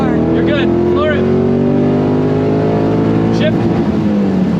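A car accelerating hard at full throttle in a drag race, a steady loud engine roar with rising harmonic sweeps as it climbs through the revs, with people talking over it inside the cabin.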